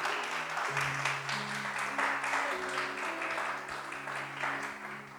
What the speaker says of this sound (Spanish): Podemos darle un aplauso a nuestro Señor